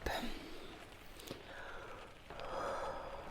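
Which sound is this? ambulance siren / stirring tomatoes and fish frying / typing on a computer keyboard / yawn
yawn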